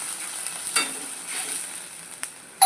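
Shankar stingray fish frying in a pan gives a soft, steady sizzle with a few brief spatula knocks and scrapes, close but fairly quiet, ending with a sharp clink.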